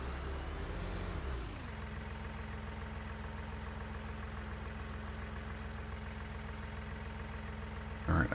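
Tractor engine in Farming Simulator 19 running at a steady low rumble; its pitch drops early on as the revs settle into an even idle that continues without speech.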